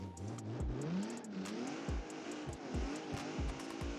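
A Mercedes car engine in the video game BeamNG.drive revs hard through rising and falling gear pulls, with sharp bursts and repeated short throttle blips, loud and close, with no talk.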